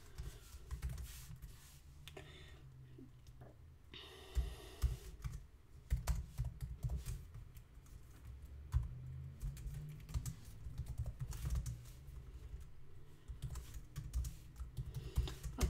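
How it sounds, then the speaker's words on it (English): Keys clatter on a computer keyboard in irregular bursts of close, crisp taps with short pauses between runs, alone with no talking. "and then you type it back in"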